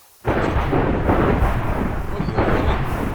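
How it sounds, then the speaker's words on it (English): Thunder from a lightning storm in the modded Minecraft game GTNH breaks in suddenly with a loud rolling rumble that carries on steadily, with a second swell toward the end. "Let me get rid of this lightning storm here."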